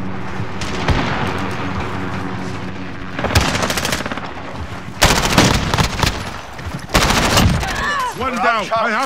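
Video game gunshots ring out in loud bursts of rapid automatic fire separated by quieter stretches, with voices talking over the action.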